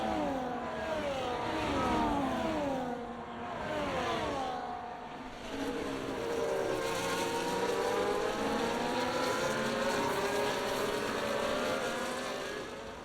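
Formula 1 cars racing around the Mexico City circuit in a video game, engines whining and revving up and down at a steady loud level as several cars pass in turn.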